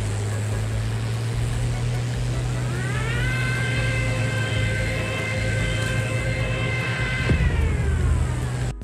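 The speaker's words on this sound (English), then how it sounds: "This plane is also equipped with the iconic siren sound that plays whenever you fly downwards" A dive bomber's siren wails during a dive in the War Tycoon video game. A steady low engine drone runs throughout, and a rising, sustained siren tone joins partway through before cutting off abruptly near the end.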